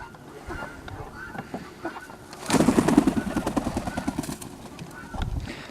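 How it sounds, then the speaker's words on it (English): Silkie and barnyard mix chickens calling near the listener, quiet clucks building to a louder burst of squawking and honking cries midway, then tapering. "We got some silkies out and some other type birds over there, some barnyard mix."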